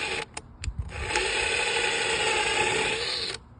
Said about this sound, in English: drill the first hole.